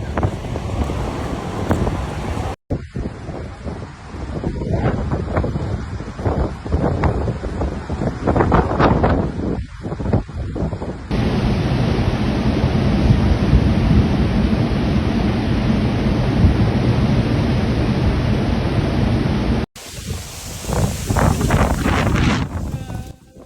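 Cyclone Alfred batters the Queensland, Australia coast with giant waves, wind and thunder. Loud roaring wind and crashing surf run through several abrupt cuts, with heavy rumbling bursts between stretches of steady gusting noise.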